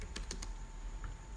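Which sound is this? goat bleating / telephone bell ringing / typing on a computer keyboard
typing on a computer keyboard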